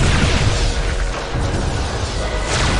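A loud, dense explosion inside the video game Netrek, a broad rumbling boom with crackling bursts that fills the whole clip without letup, with no voices over it.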